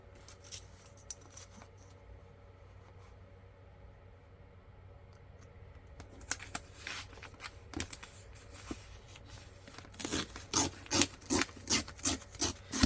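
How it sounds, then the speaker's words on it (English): Paper being trimmed down for a tall, skinny vintage-style junk journal, with quiet rustling early on, then a run of crisp rhythmic cutting or rasping strokes growing louder toward the end, with no talk. "we do need to trim this down"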